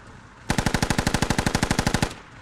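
A gunner fires the mounted gun on an M2 Bradley vehicle in a military video game, one sustained burst of about twenty rapid, evenly spaced shots lasting about a second and a half, loud and close, with no talking.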